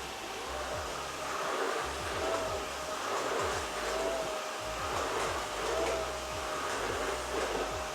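A cordless steam mop vacuum, eufy Mach V1 Ultra, runs with a steady motorized whir and a hissing, rushing layer on top, close by and constant, with faint whistling tones drifting in and out.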